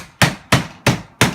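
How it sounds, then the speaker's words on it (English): A hammer strikes protruding nails on a window frame during a DIY window replacement, four loud, sharp blows evenly spaced about a third of a second apart, close and ringing briefly after each hit, no talk. "I'm just going to nail them in so they're out of the way."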